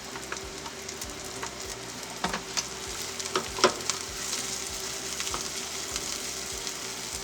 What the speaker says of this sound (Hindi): शिमला मिर्च डाल के भी बस थोड़ी दफ़ा से ही चलाना